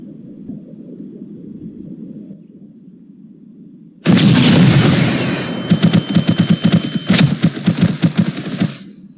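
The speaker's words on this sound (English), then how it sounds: "so they are still shooting, so we need to prevent that" Gunfire from AI enemies in an Unreal Engine 5 shooter game: after four seconds of low ambient hum, a loud sudden burst of shooting erupts, followed by rapid repeated shots continuing to the end.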